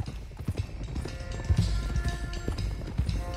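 Horses gallop in the video game Red Dead Redemption 2, their hoofbeats a quick, steady clip-clop close by, with soft in-game music tones held underneath.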